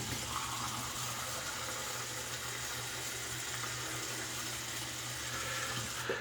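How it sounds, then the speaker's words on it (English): Steady rush of water running from a tap to warm a razor before shaving, continuous and close, with no voices. "I'm going to get the water running so I can get the razor warmed up"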